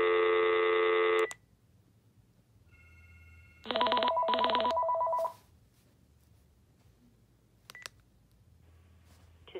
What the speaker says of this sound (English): I'm going to ring it and you'll hear it ring.